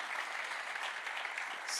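A real estate summit audience gives a short burst of steady, even applause for a female compère, fairly soft and unbroken throughout.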